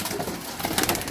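Pigeons cooing on a rooftop loft among a large flock of about 140 birds, a dense murmur of soft coos and wing rustles close by, continuous through the short moment with no talk.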